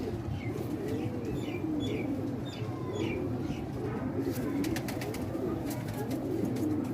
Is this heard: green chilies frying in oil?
no